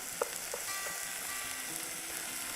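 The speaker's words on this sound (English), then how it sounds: "So you just want to saute your onion and peppers for about 2 minutes, just until that all softens" Onions and peppers sautéing in a pan, a quiet, steady sizzle with a few soft utensil taps near the start, no talking.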